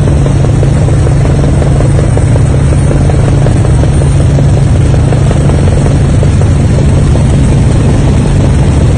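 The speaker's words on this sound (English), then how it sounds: "Now chopper." A helicopter guarding a train on the Kaduna–Abuja railway roars close and loud with a steady, heavy rotor thrum that continues unbroken the whole time.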